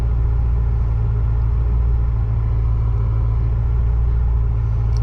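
A 1978 Porsche 928 with a manual gearbox, its engine giving a loud, steady, close low rumble throughout with no talking.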